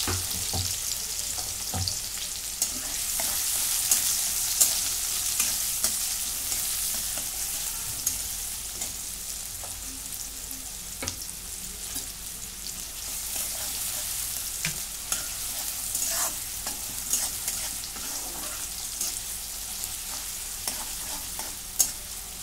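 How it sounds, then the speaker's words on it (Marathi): Finely chopped onion and cumin seeds frying in a pan, with a steady soft sizzle and occasional light stirring clicks and scrapes throughout, without speech. "त्याच्यामध्ये जिरे टाकून घेते, बारीक चिरून घेतलेला कांदा"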